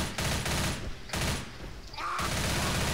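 Pistol gunfire in the zombie shooter Left 4 Dead: dense, loud repeated shots packed together in a near-continuous barrage, broken by two brief pauses, with game noise beneath.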